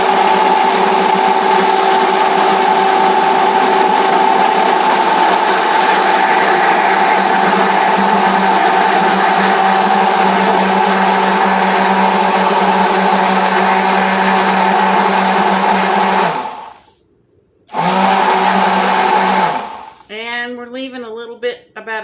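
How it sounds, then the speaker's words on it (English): A kitchen blender runs steadily while melted butter is drizzled into the container, making a loud continuous whir that cuts off briefly near the end and then restarts unevenly. "while we run the blender"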